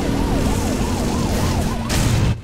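A police car siren in the Terminator 3 video game wails in a steady, rapidly repeating up-and-down cycle, loud and close over vehicle noise, then cuts off near the end.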